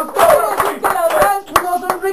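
Applause breaks out in a radio studio on a talk show, a few people clapping in short, uneven bursts at close range, mixed with voices talking over it.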